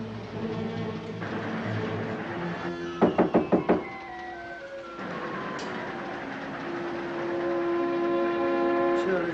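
A quick burst of about five sharp knocks on a train compartment door stands out against the steady rumble and rattle of a moving train and fades back into the running noise.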